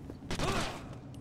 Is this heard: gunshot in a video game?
yes